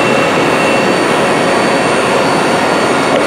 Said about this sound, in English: And this is the sub spindle.